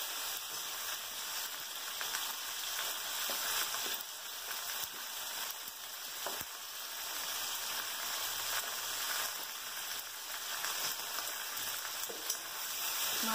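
Pumpkin pieces fry with a hilsa fish head in an oiled pan, giving a dense, steady sizzle and crackle with occasional stirring clatter, close and continuous throughout.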